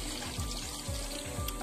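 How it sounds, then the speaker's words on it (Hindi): Cold mountain water trickles out between rocks, making a steady close babbling gurgle with a continuous watery wash and no talking. "ये देखो गाइस, ये चट्टानों के बीच से आ रहा है पानी"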